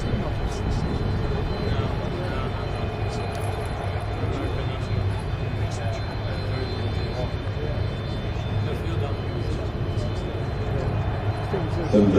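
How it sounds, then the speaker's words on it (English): A Boeing 727 passenger jet roars steadily at night, a broad continuous engine rumble that stays loud and even throughout with no break. "727, as I say, very efficient passenger aircraft these days."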